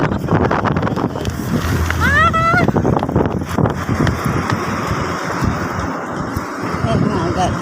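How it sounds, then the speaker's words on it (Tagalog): Strong wind buffets the microphone with gusty roaring noise, while voices talk and a brief high whoop rises over the rush. "Napakalakas ng hangin guys."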